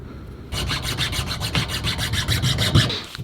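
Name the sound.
hacksaw and utility knife cutting bow tip material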